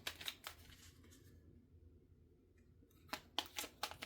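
Oracle cards are shuffled close by in quick, riffling bursts at the start and end, with a quiet pause between them.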